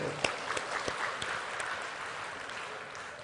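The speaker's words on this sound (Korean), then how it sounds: "감사하다고 박수 좀 하나님께 드려봐" A church congregation claps together during a Sunday sermon, a dense burst of applause with sharper individual claps near the start, continuing steadily for a few seconds.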